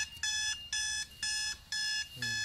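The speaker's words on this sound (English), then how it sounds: "now the alarm signal is active already" An electronic alarm from an HMI panel running on an Android tablet beeps in a rapid, regular on-off pattern, five sharp shrill bursts close by, with no voices.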